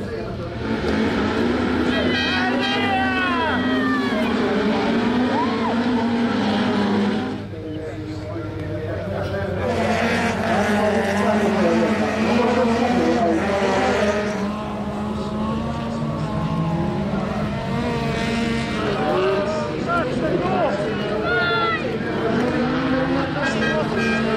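Saloon cars racing at the Brenguļi autocross track during a Latvian autocross championship round, engines revving and shifting near and far over the full stretch, with a commentator talking over the engine noise throughout.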